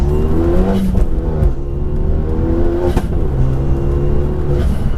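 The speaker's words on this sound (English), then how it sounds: "I love the sound of the Megane, you know that?" A 350 bhp Renault Megane RS Trophy engine revs hard and loud, rising and falling through several pulls with a raspy stock exhaust note, no voices over it.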